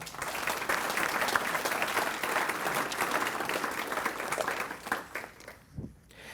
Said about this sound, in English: Can we now have a round of applause for all of our sponsors?